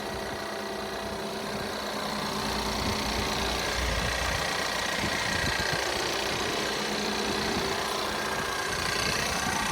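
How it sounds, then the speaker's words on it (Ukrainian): A Ford Edge 2.0 engine runs steadily at idle close by, a continuous even rumble with faint mechanical rattle and no voices. "Робота двигуна. Двигун працює чітко."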